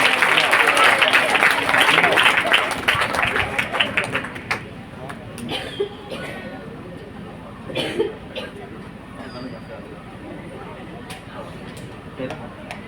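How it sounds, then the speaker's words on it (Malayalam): Audience applause for a volunteer who has run up to join a speaker's event, loud and dense for the first few seconds, then thinning into scattered claps and coughs before fading out. "നന്നായി കൈയടിക്ക്."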